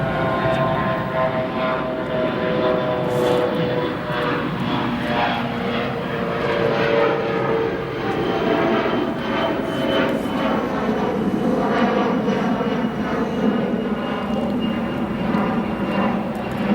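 Departing airliner at O'Hare Airport, a loud sustained engine roar with a falling and rising whine, steady in level across the whole stretch with no talk over it.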